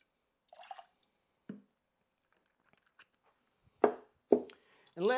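Freshly squeezed lime juice poured for a DeLorean cocktail, heard as a few short, close liquid splashes and drips with quiet pauses between them.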